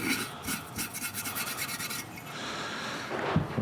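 Cloth rubbing and wiping across a chrome part on a Suzuki Bandit cafe racer motorcycle, a steady close raspy scrubbing with rhythmic strokes that continues without talk, growing slightly louder toward the end.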